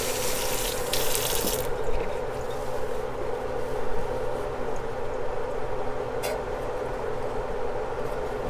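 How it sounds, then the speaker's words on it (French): Kitchen tap water streams steadily while a used frying pan is rinsed at the sink, a continuous close hiss and splash with brief louder surges as the pan moves under the flow. "Je vais d'abord rincer la poêle que j'ai utilisée."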